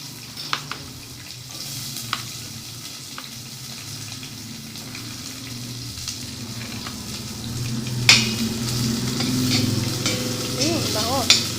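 Onion sizzles in a hot pan for ginataang tulingan, a steady frying hiss broken by occasional scrapes and clinks of stirring against the pan.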